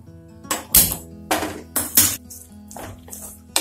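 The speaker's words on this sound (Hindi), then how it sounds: "वो पाइनएप्पल को डाल देंगे" Pineapple pieces tipped into cooked tomato in a pan, producing a run of sharp clattering metallic knocks and scrapes, close and fairly loud.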